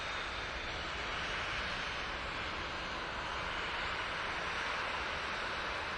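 A jet airliner landing at Manchester Airport, its broad engine roar and rushing air loud and steady throughout, with no voices.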